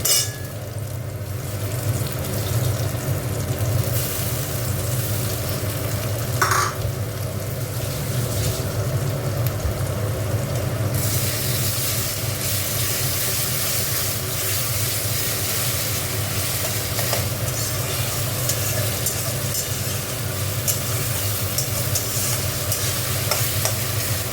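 Chopped onions and tomato fry for a catla fish tail kalia, giving a steady, close, continuous sizzle with soft stirring scrapes throughout and no talking.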